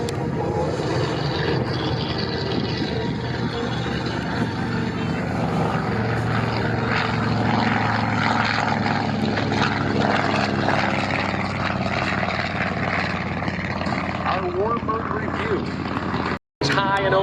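A Grumman TBM Avenger with a 1,900 horsepower radial piston engine flies past at an airshow, a steady loud propeller drone sustained throughout under an announcer's voice, cutting out briefly near the end.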